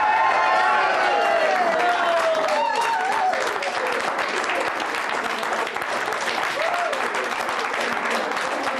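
Steady applause from a crowd carries on throughout, with a voice talking over the clapping.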